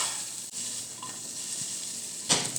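Food sizzles steadily in a hot pan while being stirred around, a continuous close frying hiss with a brief scrape near the end, while making a chicken pesto panini.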